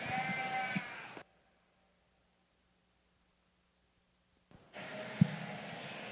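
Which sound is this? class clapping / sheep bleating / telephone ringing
sheep bleating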